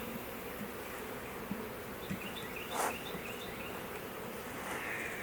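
A honeybee colony hums around an opened hive, a steady dense buzz with a few louder individual bees passing close, faint and continuous with no talk.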